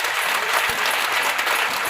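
A church congregation breaks into loud, dense applause during an evening service, a continuous roar of clapping hands from start to finish.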